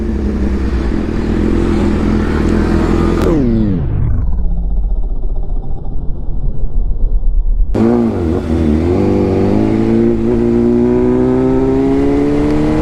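A sport motorcycle such as a Yamaha R15 or BMW S1000RR revs hard during a long wheelie, its engine note climbing, dropping sharply, then surging loud again close by.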